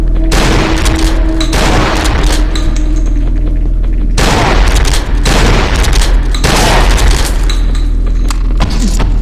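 Shotgun blasts in the horror game Cry of Fear, several loud booming shots in a row with long decaying tails, densely packed and close, with some speech-like sound mixed in.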